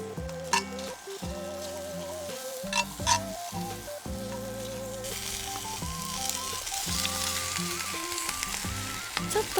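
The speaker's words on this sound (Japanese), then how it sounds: "一度お肉を取り出してお野菜を焼きます" Vegetables, including cabbage, sizzle steadily in a pan after the meat has been taken out, cooked at a car-camping site. The frying grows louder in the second half beneath continuous background music.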